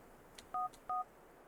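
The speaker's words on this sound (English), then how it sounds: "Jacob sends a text message" Two short, clean electronic beeps from a phone receiving a text message in GTA IV, evenly spaced, quiet, and over faint background noise.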